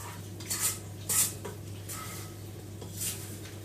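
Milk bread dough comes out of a mixing bowl with a few scraping, knocking sounds against the bowl and a soft clink or two. The sounds are close and moderately loud over a steady low hum.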